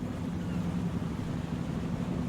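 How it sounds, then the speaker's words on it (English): A loud tractor engine in Farming Simulator 25 drones steadily as a low, rumbling hum with a noisy wash on top, continuous and unbroken, with no talk over it. "enjoy the ride from the inside cabin because tractor's loud"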